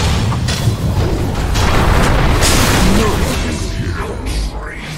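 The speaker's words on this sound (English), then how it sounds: "Radiant's middle tower has fallen." A Dota 2 tower, the Radiant middle tower, collapses during a pro match, giving a loud, sustained crumbling boom with rumbling debris that fades slowly, with voices or game announcements mixed in.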